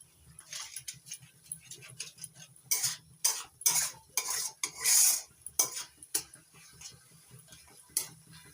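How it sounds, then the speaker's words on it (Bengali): Spice paste being sautéed in a pan over a low-medium flame, with a faint background and intermittent scraping and tapping strokes of a utensil against the pan, some louder bursts near the middle. "এবার মশলাটাকে ভালো করে কষিয়ে নিচ্ছি"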